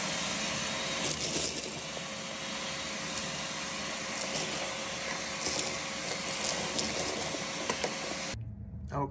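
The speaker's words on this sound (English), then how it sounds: "let's get this good old handy dandy shop vac and clean all this up" A shop vac runs steadily and close while vacuuming the rear floor of a Lincoln Town Car after a water leak, a continuous broadband roar with scraping bumps from the nozzle, cutting off abruptly near the end.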